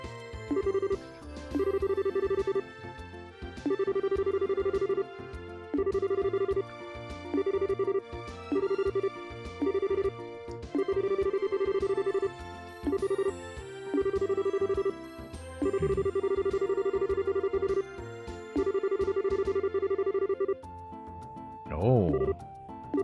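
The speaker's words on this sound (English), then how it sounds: "It's a phone." A phone rings repeatedly in a video game, its steady electronic trills pulsing in regular bursts for most of the stretch, with a voice talking over it.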